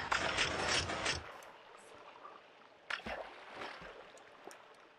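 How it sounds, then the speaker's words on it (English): Minecraft pistons clack and a player is pushed into a water slide, starting with a loud rush of flowing water that fades into quieter trickling. Sharp mechanical clicks then sound at intervals. "This piston flies up, pushes me over, this one goes up, and then pushes me out, and I'll flow down the water slide."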